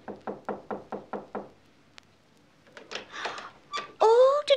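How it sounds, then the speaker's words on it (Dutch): Six even knocks on a little cottage door in a fairy-tale setting ring out clearly and close, followed after a pause by a voice speaking. "Ik zal er eens aankloppen."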